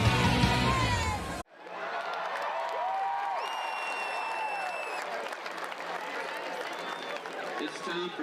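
A large crowd cheers and applauds at Paulson Stadium for Georgia Southern's football home opener, a loud roar that cuts off suddenly and gives way to fainter distant crowd noise and whistles under a commentator's voice.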